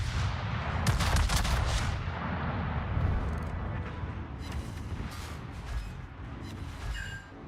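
An American battleship in World of Warships fires its big guns with a few heavy booming salvos early on over a constant rumbling battle din, while softer distant impacts follow.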